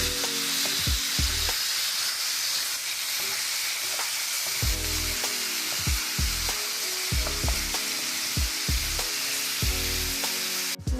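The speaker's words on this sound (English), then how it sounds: "We're going to go in and break up our ground beef. You want to make sure it's mixed well with your onion." Ground beef and onion sizzle in a pan for goulash while a spatula breaks the meat up, with repeated scraping, clacking strokes over a steady frying hiss and no talking.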